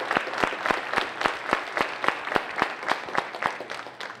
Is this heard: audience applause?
yes